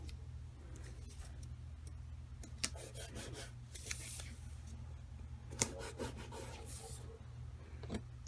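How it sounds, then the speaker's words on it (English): Painter's tape is pressed and smoothed onto paper, quiet close-up rubbing and scraping with a few brief crackly tearing bursts scattered through a low room hum. "And then I just take some painter's tape."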